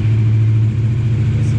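A motorcycle engine fired up on the first try after a spark plug change, idling with a loud, close, steady low throb and a slight dip in pitch midway, alone without talk.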